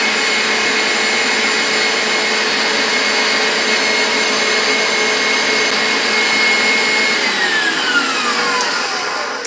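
An electric mixer beats egg whites for a marshmallow meringue with a loud, steady motorized whir, its pitch sliding down slightly near the end, with no talking.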